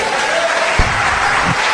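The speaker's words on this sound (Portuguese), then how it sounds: "Aplauda Jesus." A church congregation claps together in a dense, steady wash of applause, with a low thump or two standing out briefly underneath.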